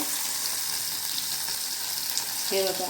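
Mustard seeds and masala fry in a hot kadhai, a dense, continuous crackling sizzle filling the clip, steady and close, with a short spoken phrase near the end.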